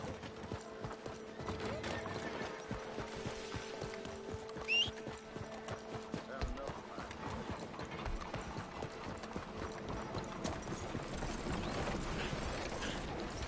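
Horse hooves clip-clop steadily at moderate distance over a busy, layered background of game ambience and faint mechanical clatter.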